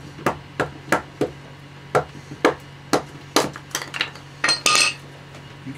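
A piece of fat wood is split in half with a series of sharp knocks and chops, about a dozen separate close impacts at an uneven pace, growing denser toward the end with a final cracking burst.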